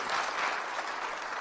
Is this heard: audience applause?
yes